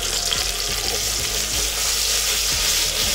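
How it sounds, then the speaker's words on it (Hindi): A paste of ginger, garlic and onion frying hard in a pan, a loud, dense, continuous sizzle close up with faint stirring scrapes under it. "अच्छे से इसको भूनते हैं।"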